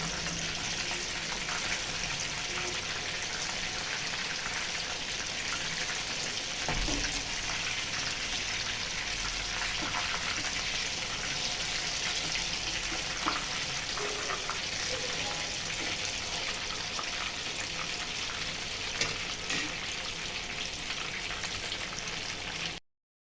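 Freshly flipped fish fries in a pan of oil, a continuous crackling sizzle with scattered pops and spatters, steady and close, with no voices.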